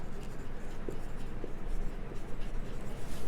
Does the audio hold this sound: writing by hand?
yes